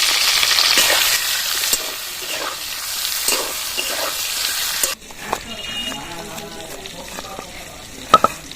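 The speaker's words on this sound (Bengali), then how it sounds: "এবার বেগুনগুলো ভেজে নেব" Eggplant pieces with turmeric and salt fry in a pan, a loud dense sizzle for several seconds that cuts off sharply, followed by quieter clinks, scraping and a voice in the background.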